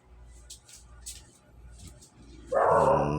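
A dog gives a few faint, high yips early on, then lets out a loud, close bark near the end.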